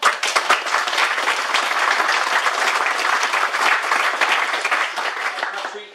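Crowd at a yacht club prize giving applauding the organising club after a four-day sailing event, with sustained, loud, close clapping that is even throughout and tapers slightly at the end.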